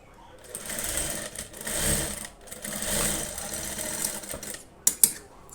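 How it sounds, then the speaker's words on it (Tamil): Sewing machine running in steady bursts as it stitches back over an existing seam on blouse fabric, a close, continuous whirring hum that pauses briefly, then two sharp clicks near the end. "அந்த தையல் மேலேயே தையல் அடிக்கணும்"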